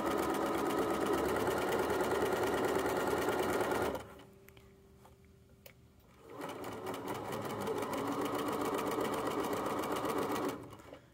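A sewing machine stitches the inside seam of a fabric Chromebook case with a 3/8 inch seam allowance, running in a loud steady whir, pausing briefly mid-way, then resuming before stopping near the end.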